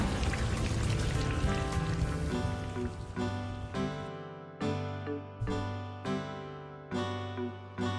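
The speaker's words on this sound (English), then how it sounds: "Good to get out of the rain." Rain patters steadily in the video game Terra Incognita, dense at first and then thinning beneath sustained musical chords that swell and fade in even steps.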